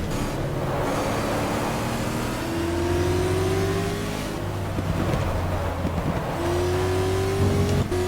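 A race car in the GTR2 sim, running the 2015 WEC round at Spa-Francorchamps, accelerates hard along the Camel Straight to overtake slower cars. The engine note climbs through the gears as a steady, loud, close drone, with a second car's engine audible nearby.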